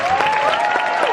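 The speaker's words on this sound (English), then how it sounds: "can we all just give them a massive cheer?" An audience at a fashion show and women's day party breaks into loud, steady applause and cheering for the models, a dense continuous burst of clapping with a whistle running through it.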